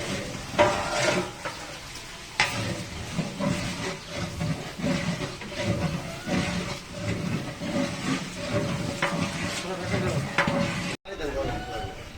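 Onions are frying on a stove for Old Dhaka–style biryani, with a steady sizzle broken by scraping, clattering stirring strokes, and people talking over the cooking throughout.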